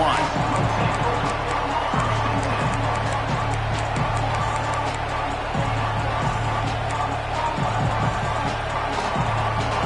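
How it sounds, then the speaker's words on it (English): A football stadium crowd at a game, a dense, steady roar filling the background under continuous play-by-play commentary. "This crowd ready to make its presence known."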